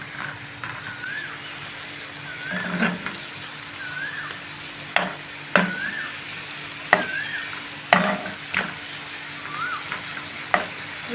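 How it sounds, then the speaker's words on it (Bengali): Gujiya sweets fry in oil over a low flame with a soft, continuous sizzle. Repeated sharp clinks of a utensil against the pan come every second or so while the pieces are turned and lifted out. No one speaks. "একেবারে লো ফ্লেমে কিন্তু ভাজতে হবে।"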